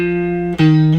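A short electric guitar riff, two sustained distorted notes with a quick slide between, loud and close.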